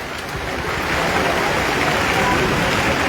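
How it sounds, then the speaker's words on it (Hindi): Hail pounds down hard at the Vaishno Devi shrine mountain temple in a continuous, even wash of pattering impacts that swells slightly louder after the first second and holds steady to the end. "जबरदस्त ओले पड़ रहे हैं इस पर।"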